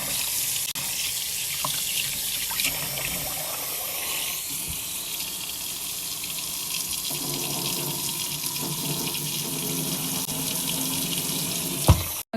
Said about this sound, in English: And I'm washing it with warm water.